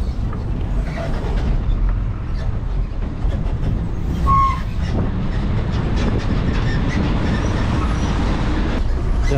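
A KSRTC bus jolts along a rough, barely paved hill road toward Nilambur, making a loud continuous rumble with rattling, clattering body noise throughout.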